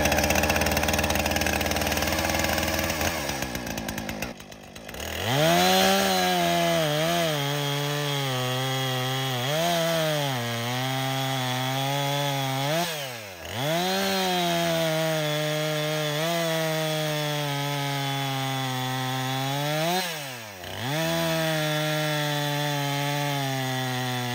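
A chainsaw with a freshly sharpened chain cuts through a log, loud and close, its engine note sagging and recovering under load through three long bogging cuts, with brief dips between them.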